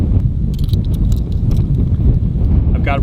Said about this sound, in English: I still can't believe how windy it is.